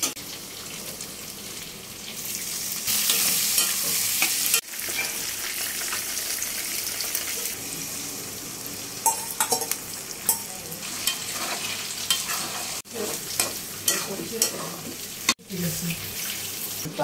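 Egg bhujia with chopped onion and green chilli stir-fried in a pan: a continuous sizzle with scattered clattering scrapes of the spatula and a rushing, water-like hiss through much of it.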